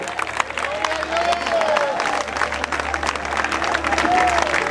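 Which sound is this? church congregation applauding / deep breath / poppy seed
church congregation applauding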